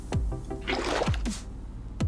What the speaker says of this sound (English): So we have flowing water up here at the top.